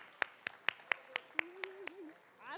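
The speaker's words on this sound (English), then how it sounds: "Another round of applause." About eight separate, sharp handclaps ring out at a high school spoken word poetry event for grades 11 and 12, sparse and fairly faint, followed by a brief voice.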